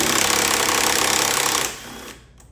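A rapid, loud ratcheting buzz, likely a power tool driving an 8mm socket to remove a bolt on a Dodge Challenger air intake, runs steadily close by, then winds down and stops near the end.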